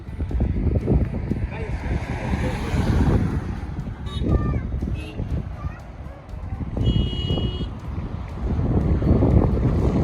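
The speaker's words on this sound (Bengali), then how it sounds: "আর প্রচণ্ড হাওয়া, হাওয়াতে আমার ক্যামেরা নড়ে যাচ্ছে।" Strong, gusty wind roars and buffets the microphone without letup at Umiam Lake in Meghalaya, with muffled voices faintly underneath.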